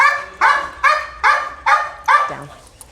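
Five sharp barks from a military working dog during a training bite demonstration, evenly spaced about every half second and loud and close, with a short whimper at the end and people talking faintly around it.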